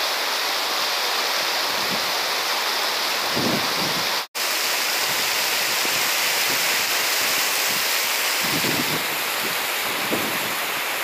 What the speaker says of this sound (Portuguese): Bastante chuva mesmo.